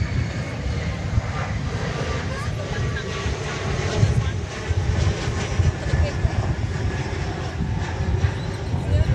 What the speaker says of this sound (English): is this American Eagle Embraer 175 arriving from Abilene, Texas, flight 3408.